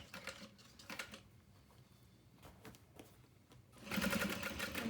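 Sewing machine top stitching along a bag pocket, short bursts of rapid needle stitching separated by pauses, then a longer steady run at the end, close and fairly quiet with no speech.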